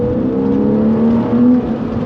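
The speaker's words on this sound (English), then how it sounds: "let's see how the bark from the intake is going to sound." A loud, steady engine drone from a Porsche 996 with a Fabspeed carbon intake, a rising whine as the revs climb, the intake barking and roaring close by without a break.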